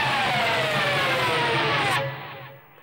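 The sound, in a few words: pick scratch rubbed along guitar's bottom strings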